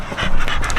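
A deaf dog in bite-work training pants rapidly and loudly up close, quick rhythmic breaths filling the brief moment.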